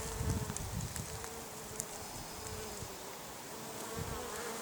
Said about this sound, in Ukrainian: Але бджола її дуже-дуже любить